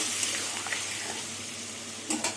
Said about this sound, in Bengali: আলু পটল দিয়ে ভালো করে কষিয়ে নেবো